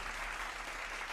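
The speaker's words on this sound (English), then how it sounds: "Round of applause for Captain" A brief burst of steady applause-like crackle, faint and evenly spread, with a low hum underneath.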